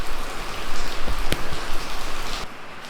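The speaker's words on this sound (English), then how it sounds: "What a rain, huh?" Heavy rain pours steadily as dense, close hiss across the whole stretch, with a brief sharper splash near the middle and the downpour easing slightly toward the end.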